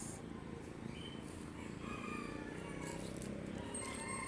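Chickens and a rooster outdoors in a quiet yard at Christmas time, with faint scattered clucks and crowing calls at a distance over a low background murmur.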